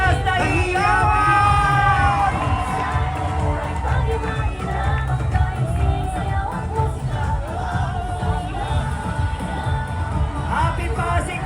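Crowd at the Araw ng Pasig grand civic parade in Pasig City yells and cheers loudly, a continuous roar of mixed shouts and whoops with an announcer's amplified voice and music woven through it.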